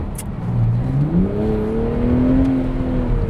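A 2019 BMW Z4 M40i, a rear-wheel-drive roadster, accelerates hard with its engine note climbing steadily through the gears. It is loud and continuous, with no voices.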